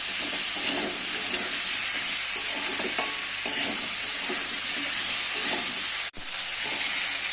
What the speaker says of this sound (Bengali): এবার কুচানো পেঁয়াজগুলো দিয়ে দিলাম, দিয়ে আলুর সাথেই ভেজে নেব।